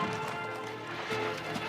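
Horses' hooves clip-clop steadily under a dense, busy soundtrack, the hoofbeats running continuously and fairly loud throughout.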